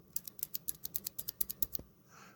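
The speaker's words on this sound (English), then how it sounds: "maybe the one that makes an audible click" A run of about a dozen crisp, evenly spaced keyboard switch clicks, close and sharp in quick rhythm, then a short quiet tail.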